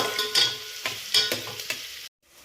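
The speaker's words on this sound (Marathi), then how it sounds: "आता आपण कापलेला कांदा त्यामध्ये घालूया। कांदा थोडासा लाल होईपर्यंत परतूया।" Chopped onion sautéing in a pan for a black horse gram pulao, a close, quiet sizzle broken by several scraping stir strokes, with no voices, ending abruptly.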